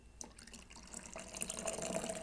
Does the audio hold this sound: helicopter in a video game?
no